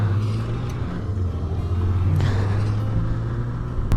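A Yamaha XJ600 sports motorbike on new tires rides along a gravel road in Iceland, its engine droning steadily under continuous rumbling road and wind noise, with a sharp click near the end.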